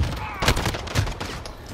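FAMAS burst rifle firing in Modern Warfare, a few sharp clustered shots rising out of a steady background, with brief quieter gaps between the bursts.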